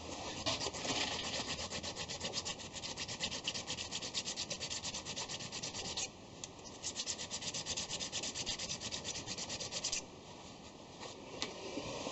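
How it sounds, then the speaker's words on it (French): A hand file rasps along the burr on a freshly machined metal part on a lathe, a steady dense scraping that runs continuously with brief pauses, close and fairly quiet, with no talk. "Je vais pas mettre un coup de chanfrein parce qu'il y a un petit coup de lime sur la bavure."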